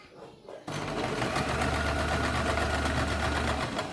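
Electric sewing machine stitching baby pant fabric, starting abruptly after a brief quiet moment and then running as a steady, fast, loud mechanical whir with a rapid needle rhythm, close up.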